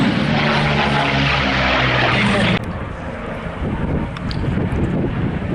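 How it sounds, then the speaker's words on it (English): Curtiss P-40 propeller warplane passing at an air show in the Illawarra, a loud engine roar that cuts off abruptly midway, leaving wind and crowd noise, with an announcer's voice over it. "There are four major variants of this aeroplane, namely the P40B, E, F and E."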